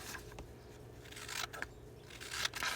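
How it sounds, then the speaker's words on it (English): Scissors snip down through a junk journal page in a few quick, close cuts, crisp and papery, with light rustling of the paper between strokes. "So I'm going to go ahead and cut down this page."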